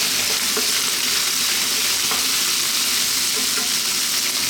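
Sliced onion with garlic and ginger stir-frying in a hot pan for a beef and bok choy dish, giving a loud, steady sizzle with a few sharp clicks of a utensil against the pan.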